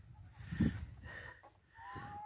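Backyard hens give a few soft, quick clucks at close range, faint and sparse against a quiet background.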